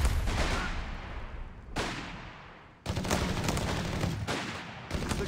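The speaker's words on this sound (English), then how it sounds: "The cowards are shooting at us!" Gunfire in Company of Heroes 3 during a WWII campaign battle: dense bursts of rifle and machine-gun fire crackle loudly in rolling volleys, with short gaps between heavy, overlapping barrages.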